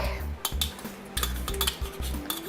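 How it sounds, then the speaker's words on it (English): A spoon scraping and clinking against a pot while food is stirred, a quick irregular series of close metallic knocks over a faint background hum. "we want to stir it up real good"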